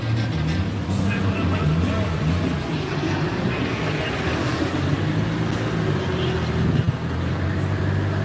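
A car engine runs at steady revs on an outdoor dyno, a loud, continuous rumble with broad noise. Voices can be heard talking at the same time.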